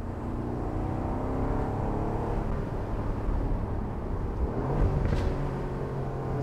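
Aston Martin Vantage F1 Edition safety car engine droning steadily at low road speed, a continuous deep rumble with a slight rise in revs near the end, heard from inside the car with no talking.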